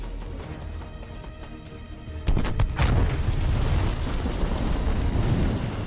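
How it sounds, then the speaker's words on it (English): A low rumbling soundtrack from the video game Left Alive gives way to a loud booming explosion that rolls on as a sustained roar. "I love explosion noises in this"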